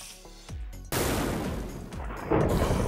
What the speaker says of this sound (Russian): О, высекатель молнии, режим один выстрел.